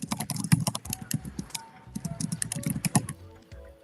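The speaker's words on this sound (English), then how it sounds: "I hear them typing on." Someone types rapidly on a computer keyboard, a close, crisp stream of key clacks in quick bursts with brief pauses between runs.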